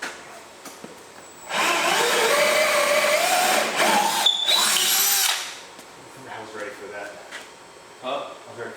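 A power drill bores a hole through the transom of a center console fishing boat during a rebuild, a loud steady whine lasting a few seconds with a brief pause, then fading to quieter handling noises and soft voices.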